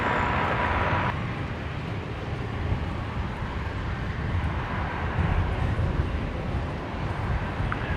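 Airliner taking off from runway 19 right at Brisbane Airport, a broad sustained jet roar heard from a distance, steady and loud with a brief hiss at the start.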